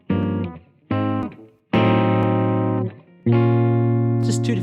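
Sustained keyboard or synth chords play in a short progression that resolves onto an A fully diminished seventh chord. Four separate chords ring out, each held and then cut off, loud and close, with no talk over them.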